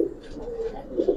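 Pigeon cooing close by, a low rolling coo that swells twice over a brief moment, under light background noise.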